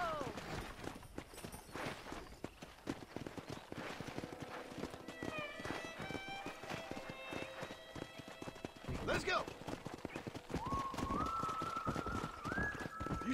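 Rhythmic clip-clop of horse hooves at a trot with a whinny, under steady talk and game ambience in Red Dead Redemption.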